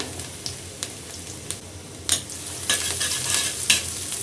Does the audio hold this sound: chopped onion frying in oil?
yes